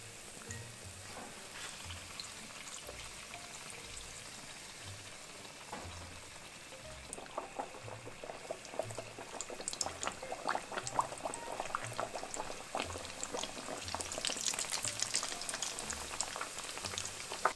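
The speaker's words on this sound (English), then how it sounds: "I give it another flip and let it fry on that side for another 30 to 45 seconds" Dough fries in hot oil, a steady bubbling sizzle with crackling pops that grows busier and louder partway through, close and without voices.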